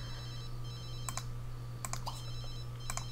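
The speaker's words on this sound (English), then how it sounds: "We're going to ignore that phone call" An in-game telephone in The Sims 3 rings in short repeated bursts over a steady low hum, with faint tapping between the rings.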